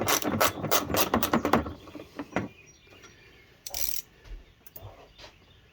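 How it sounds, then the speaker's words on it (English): A 1/4 inch drive ratchet works the water pump bolts on a 2004 Dodge Ram 1500 4.7 during a pump replacement. Close, rapid clicking bursts fill the first two seconds, then a few scattered clicks follow. "I think I'm going to try to do this with my 1/4 inch drive."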